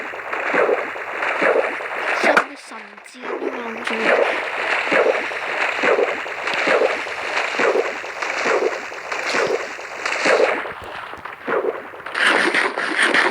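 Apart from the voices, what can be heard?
boat moving on water in Minecraft, a video game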